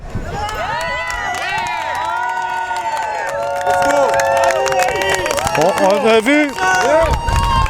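Crowd cheering and shouting at a street demonstration march in Montréal, a loud, lively mix of voices and whoops that swells toward the end, with talking over it.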